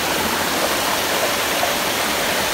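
Meyah waterfall in Paramin, Trinidad, pours in a steady, dense, close rushing roar that fills the whole moment with no voices.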